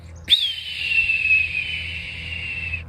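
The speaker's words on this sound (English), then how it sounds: "So that's the sound of a red-tailed hawk." A red-tailed hawk gives a single loud, drawn-out descending scream lasting over two seconds, clear and close, during a birds of prey presentation, with no talking over it.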